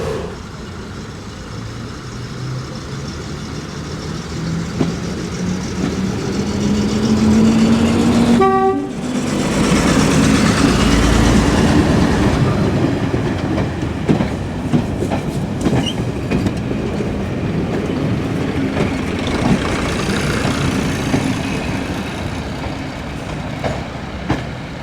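A heritage diesel train, a DMU or Hymek locomotive, rumbles along with a steady loud engine drone and rolling wheel noise, a sharp horn toot sounding partway through, and clattering rail noise throughout.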